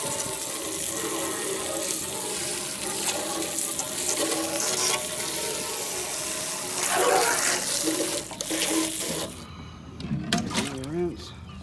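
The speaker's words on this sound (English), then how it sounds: "Now we're gonna rinse this tank out." Tap water runs loudly and steadily while an old fish tank is rinsed out, splashing and gurgling with shifting intensity. Near the end the flow cuts off, leaving drips and brief sloshing. A person talks partway through.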